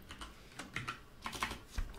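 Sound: typing on a computer keyboard

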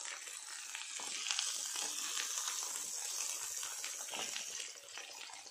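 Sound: tandoori chicken sizzling in a pan on the flame

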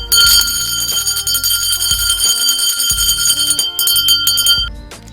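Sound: traditional first school bell ringing on September 1

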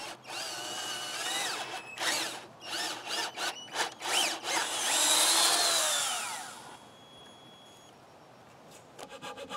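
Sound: power drill drilling a hole in wood for a trailer hitch

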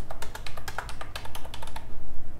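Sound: typing a phone number on a keyboard

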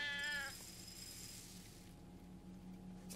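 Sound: cat meowing in the video game Sheltered

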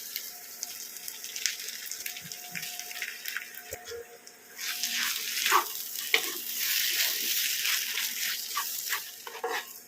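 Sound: boiled potato added to frying spice mix

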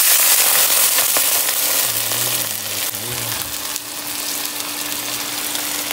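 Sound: water ladled into hot pan of frying chicken, sizzling

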